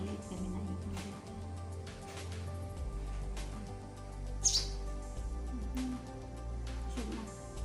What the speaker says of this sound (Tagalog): May maliit kami na ibon dito.